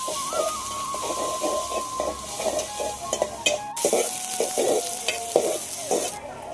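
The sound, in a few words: panch phoron and cumin seeds sizzling in hot oil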